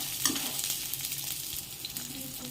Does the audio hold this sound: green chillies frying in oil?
yes